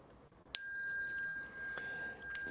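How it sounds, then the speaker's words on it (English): A single bright bell is struck once and rings on with a clear, sustained metallic tone that slowly decays, with a faint second tap near the end, in an otherwise quiet room. "The bell sound"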